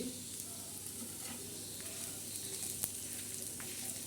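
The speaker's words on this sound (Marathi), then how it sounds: "आता खोबरं मी भाजत आहे" Grated coconut dry-roasts on a tawa for a black masala, a faint, even hiss with a few soft ticks and scrapes from stirring, quiet and without speech.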